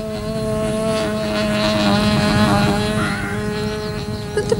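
A toy radio-controlled model plane's engine droning steadily as it flies, a loud continuous buzzing whine with a strong steady pitch, nearby and alone.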